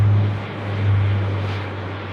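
An airliner on approach to land on runway 34 left at Sydney Airport, a steady broad engine roar that swells and eases slightly over about two seconds, fairly loud and with no voices.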